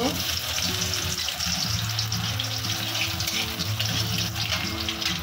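Whole cinnamon, cardamom, cloves and chopped garlic sizzle in hot oil in a pan, giving a dense, steady hiss that runs without a break, with faint low clatter underneath.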